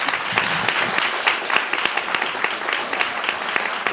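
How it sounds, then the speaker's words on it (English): At a school board of education meeting, the audience gives a tennis team of student athletes a steady, dense round of applause, with crisp individual claps standing out close by and no speech over it. "So let's give them a round of applause,"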